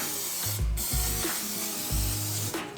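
Short hissing bursts of cooking oil spray land on chicken wings in an air fryer, close up, mixed with clicking mechanical pump noises in a quick irregular rhythm.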